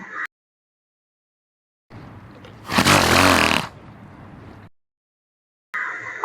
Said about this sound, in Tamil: கழுதை,